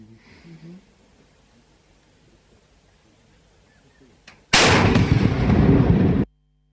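A sudden burst of loud, dense rifle fire erupts after a quiet stretch, sustained for nearly two seconds before cutting off abruptly.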